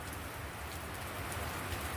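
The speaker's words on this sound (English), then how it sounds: "we're just on the edge of where the rain is coming in" Steady rain coming down hard just beyond the edge of a canopy, a dense, even hiss of drops with a low rumble underneath, moderately close and continuous, with no voices.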